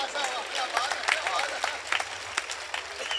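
Audience applause welcoming Shailesh at a Hindi poetry gathering, a brisk crowd of claps with sharp individual hits and some voices mixed in, steady for about three seconds.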